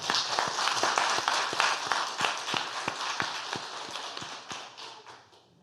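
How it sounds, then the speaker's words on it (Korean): A church congregation claps for the children during a Sunday worship service, loud rhythmic unison clapping in a steady beat that gradually fades toward the end. "우리 여러분들 이 어린이들 위해서 힘찬 박수 한번 보내주세요."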